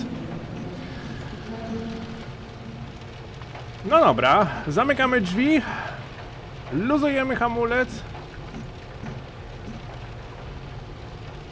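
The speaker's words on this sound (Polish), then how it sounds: "Jak widać, mamy cały czas deszcz" Steady rain from Train Simulator Classic, in a BR 401 ICE 1 train, hisses evenly throughout beneath someone talking in the middle stretch.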